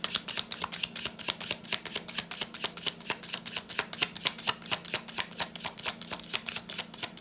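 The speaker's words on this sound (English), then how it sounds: "Give it a good shuffle." Tarot cards being shuffled in a fast, even riffling rhythm, close and continuous, with no voices.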